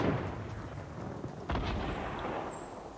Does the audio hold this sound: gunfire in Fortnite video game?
yes